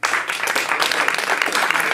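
A church congregation in Gisors, Normandy, bursts into dense, steady applause, many hands clapping together at close range for a couple of seconds.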